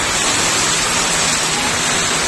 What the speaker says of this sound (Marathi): पाऊस मोठ्या प्रमाणात पडत असल्यामुळे